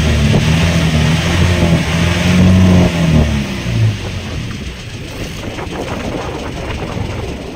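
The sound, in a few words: fishing boat engine running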